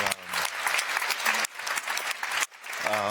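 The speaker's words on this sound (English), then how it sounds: "I think they deserve a round of applause." Steady audience applause at a global pitching competition, a dense wash of many hands clapping with brief dips, and a voice speaking over it at moments.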